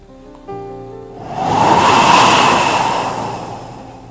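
Wind sound effect: a broad gust rushes in, swells loudly and slowly fades, following a brief stretch of soft tonal music, with no talking.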